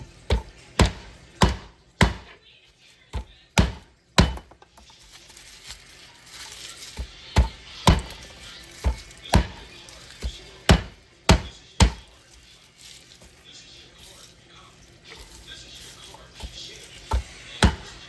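Garlic chopped on a wooden board: a long series of sharp, distinct knife thuds, close and crisp, coming in irregular bursts with short pauses between them.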